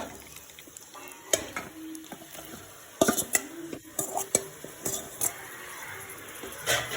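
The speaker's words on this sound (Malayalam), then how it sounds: "ഇനി ഇതൊരു 3 മിനിറ്റ് നന്നായിട്ട് ഇളക്കി കൊടുക്കുക." Marinated chicken for a cooker biryani is stirred in a pot over a soft sizzle, with scattered spoon knocks and scrapes that turn busier and louder partway through, and no one speaking.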